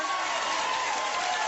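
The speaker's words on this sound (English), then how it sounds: "Don't encourage the audience to clap so much." A studio audience applauds, a dense even wash of clapping that holds steady at moderate volume for a short burst.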